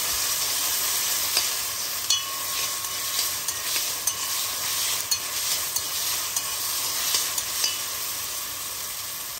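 Tomato paste is stirred in a sizzling frying pan while cooking golubtsy, with a constant hiss overlaid by regular scraping taps of a spoon every second or so, close by.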